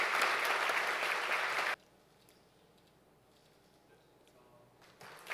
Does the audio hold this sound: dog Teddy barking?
no